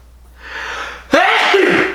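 A single loud, close sneeze bursts out after a brief indrawn breath, sharp and sudden, with no talking over it.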